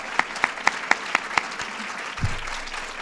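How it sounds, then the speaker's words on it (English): An audience at an event announcing funding for military families claps, with sharp rhythmic claps at the front of a quick applause burst that fades after a few seconds, with a low thump near the end. "let's give Holly and the entire committee a big round of applause for all the work that they've done."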